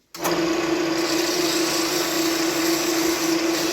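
A steady, loud whirring drone of a spinning wood lathe as sandpaper works tear-out off a small keychain baseball bat turned from firewood, running continuously after a sudden start.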